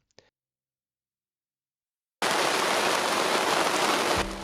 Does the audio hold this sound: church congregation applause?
no